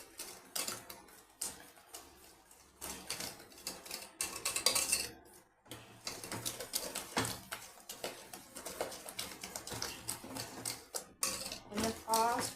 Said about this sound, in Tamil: கொஞ்சம் ஃபாஸ்ட்டாக மிக்ஸ் பண்ணணும்.